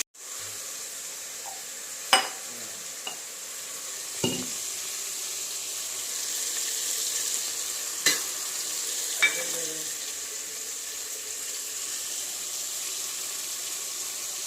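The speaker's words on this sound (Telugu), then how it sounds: "అల్లం వెల్లుల్లి పేస్ట్ కూడా వేసేసుకోండి. మంచి మగ్గనివ్వండి." Ginger garlic paste cooking in a pan for fried rice and potato curry, a soft continuous sizzle with a few sharp spatula clinks and scrapes.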